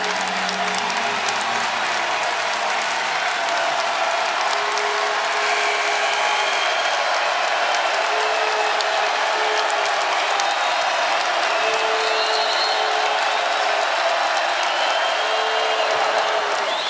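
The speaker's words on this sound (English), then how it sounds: "the crowd is into it here at Gregory" Volleyball crowd in Gregory Gym cheering and applauding through a timeout in a 2019 NCAA women's tournament match, a dense, sustained roar of clapping and whoops filling the arena, with faint voices beneath.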